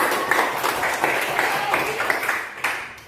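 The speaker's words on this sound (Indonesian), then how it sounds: "Tepuk tangan buat Siva." A classroom of students applauds a classmate, with several hands clapping together in a loose burst that carries on at a moderate level.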